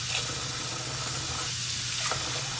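Running water pours over rice as it is rinsed in a kitchen, making a steady, close hiss that goes on without pause.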